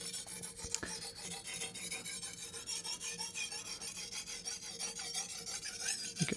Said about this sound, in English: making sure I hit the heel and the tip as well, because those are the hardest parts to sharpen generally